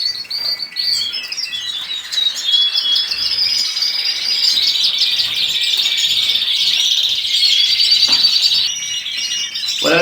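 Hybrid birds from a female goldfinch crossed with a canary, caged and nervous, chirping and twittering nonstop with busy, close, high-pitched calls.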